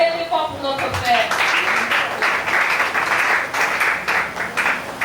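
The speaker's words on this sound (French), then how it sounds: "Acclamez très fort pour notre frère." A church congregation bursts into loud, sustained applause at a special evening service, dense clapping filling the room and continuing steadily throughout with voices mixed in.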